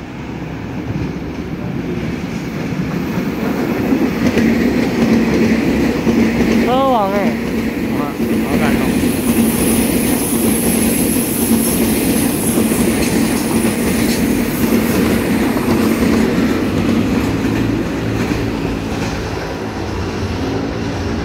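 An EMU3000 twelve-car Tze-Chiang express, set EMU3001, passes at Ruifang on Taiwan's eastern line in a loud, sustained roar with rhythmic wheel clatter and a brief horn, while someone talks over it.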